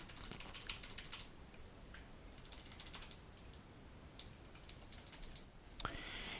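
Rapid typing on a computer keyboard while working in Studio Pro software, a steady patter of light key clicks running throughout at low, close-up level with a slightly louder clack near the end.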